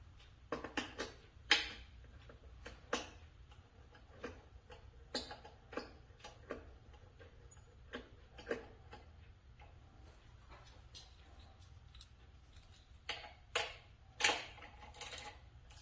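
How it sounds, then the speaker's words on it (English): A ratchet wrench tightens a long hex bolt on a Kawasaki Ninja ZX-10R air box, making sparse bursts of sharp close clicks spread across a quiet background. "It's a long hex bolt here, and we're just going to go ahead and mount that on."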